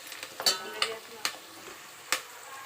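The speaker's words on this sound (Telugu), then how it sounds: "ఇది కొంచెం రెడ్గా మంచి కలర్ వచ్చే వరకు ఆనియన్స్ వేయించుకోవాలి." Onions frying with fresh curry leaves in a pan for Andhra-style fish curry, a steady low sizzle broken by a few sharp stirring scrapes and clacks spread across the stretch, with no talking.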